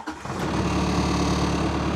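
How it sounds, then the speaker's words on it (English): A Rippa R32-3 mini excavator's engine cranks briefly and catches, then settles into a steady, loud, close diesel drone with a throbbing low rumble for the rest of the clip. "So we're gonna start the machine"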